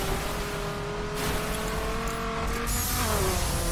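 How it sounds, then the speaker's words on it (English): Ram SRT-10 dirt-spec pickup truck mud bogging in The Crew, its engine droning steadily and loud throughout, rising slightly in pitch near the end. "Doing a little mud bogging."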